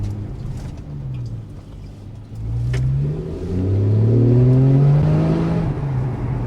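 Porsche 911 with sports exhaust while driving, a loud engine note rising and revving steadily from inside the car, with a few faint pops; crackling is not distinct over the drone.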